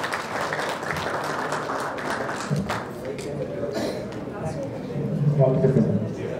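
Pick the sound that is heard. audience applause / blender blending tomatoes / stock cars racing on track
audience applause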